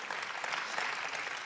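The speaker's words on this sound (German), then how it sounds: "Lass uns Applaus geben." A church audience claps in a steady, even wash of applause for a speaker coming on stage, heard up close without voices.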